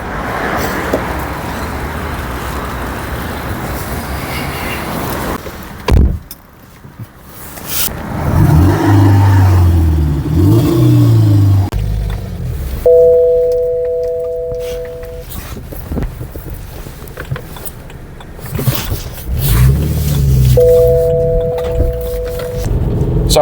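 A 2008 BMW 3 Series (E93) engine hums and revs through continuous road noise while driving through a city, with bumps and passing traffic and a couple of short electronic tones.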